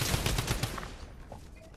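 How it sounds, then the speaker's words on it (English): Rapid bursts of drum gun fire in a video game battle, dense and loud at first, then trailing off into quieter scattered game sounds. "I'm gonna try to kill him up close with this drum gun"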